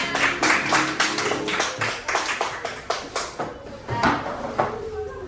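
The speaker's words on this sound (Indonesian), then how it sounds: "Oke, tepuk tangan buat kita semua." A small group, likely children in a class session, claps in a rhythmic pattern of distinct, evenly spaced claps, fairly close and clear, pausing briefly before a final few claps.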